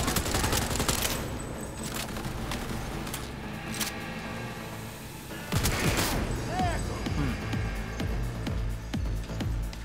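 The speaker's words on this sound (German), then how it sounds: "er darf durch die Scheibe schießen und ich nicht" Gunfire in the video game Cyberpunk 2077 Phantom Liberty, with dense bursts of shots and impacts through glass, loud and busy, fading briefly before another heavy volley.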